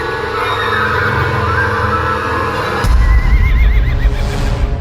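Horses neigh in a frenzy as an audiobook sound effect, with a wavering whinny rising over a dense, low rumble that grows louder partway through.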